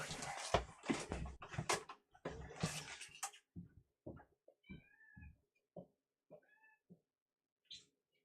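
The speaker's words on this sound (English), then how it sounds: "He's meowing." A house cat meows several times, close and clear, in short separate calls after a stretch of louder rustling noise.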